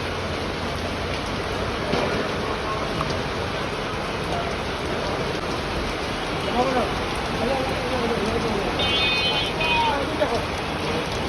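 Rain falls in a steady, dense patter on surfaces nearby, with people talking and laughing faintly over it and a brief high electronic tone near the end.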